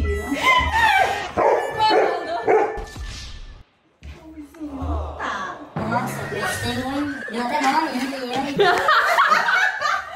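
Dogs barking with yips in a home with many dogs, short sharp barks mixed in under loud chatter and laughter from people talking throughout.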